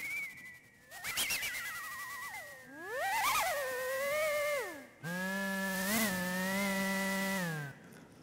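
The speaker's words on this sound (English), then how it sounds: "ask the bird to morph into a chainsaw" AI-generated whistling, chirping bird-like tones bend and slide, then morph into a steady, buzzing harmonic drone like a chainsaw, loud and close with no talking.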